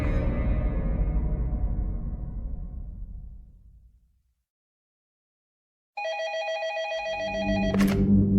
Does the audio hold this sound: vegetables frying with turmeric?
no